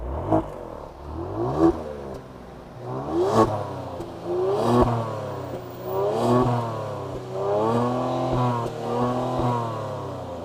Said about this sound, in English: This is an active exhaust, so it sounds more aggressive.